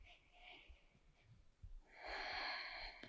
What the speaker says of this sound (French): Allonge tes respirations.